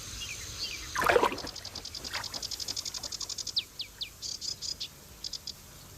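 Birds call from a European marsh, a rapid run of high repeated chirps and tweets with a louder rasping note near the start, close and clear over faint low background hiss.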